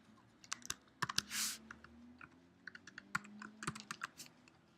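Fingers tap out a burst of keystrokes on a computer keyboard, irregular clicks with short pauses and a louder thump near the start, close and crisp with no talking.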